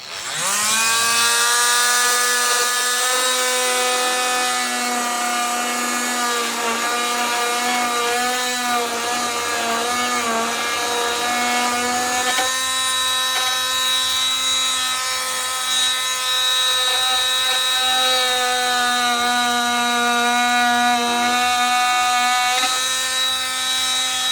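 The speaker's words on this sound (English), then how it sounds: "I'm gonna do a little bit of cutting right now just to show you what I'm up to" Power tool cutting a homemade tail tidy for a Beta 390 RS motorcycle, a loud, steady whining drone with shifting pitch that runs the whole time with no talk.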